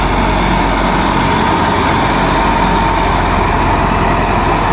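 A tractor-driven thresher, a 400 model powered by a 375 tractor, runs steadily while threshing millet outdoors, giving a loud, continuous engine drone with dense mechanical rumble and no pauses.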